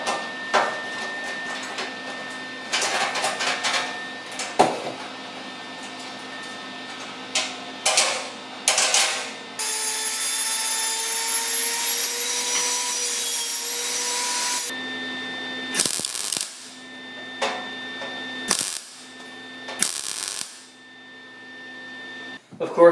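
A grinder smooths welds on the front bumper of a 1976 Mazda RX, its high whine rising and settling for several seconds amid clattering shop noises and intermittent talk.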